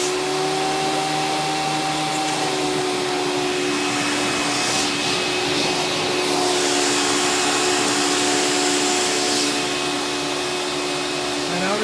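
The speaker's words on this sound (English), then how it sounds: "This is a direct air vacuum. They don't make very good suction." A Hoover Power Drive Supreme upright vacuum cleaner, a direct-air design, runs steadily and loudly throughout with a constant motor whine and rushing airflow, alone without talk.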